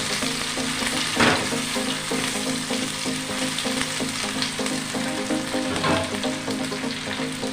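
Bay leaf sizzling in hot oil in a pan, a steady dense crackle and hiss with a few louder spits, close and continuous throughout with no voices, as spiced paste is about to be added for jackfruit kofta.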